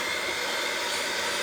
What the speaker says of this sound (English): I'm gonna grab my hand mixer and just blend this